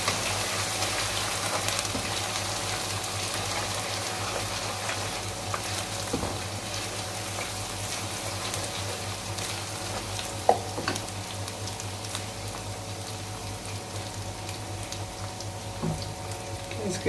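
Garlic-ginger paste frying in a pan with onions, fenugreek seeds and cumin while cooking taro root, a steady close sizzle throughout with occasional stirring clinks and a faint voice.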